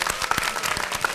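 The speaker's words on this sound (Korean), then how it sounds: "우리 구테스 총장님께 다시 한번 열화와 같은 박수 보내주십시오" Audience applause for the UN Secretary-General at a youth event in a broadcast studio, a short burst of brisk clapping, fairly distant and moderate in level.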